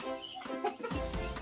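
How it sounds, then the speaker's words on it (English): Free-range local chickens on a farm shared with other animals cluck and call in a short series of close, clear, slightly strained notes. "Some of my local chickens, you see them"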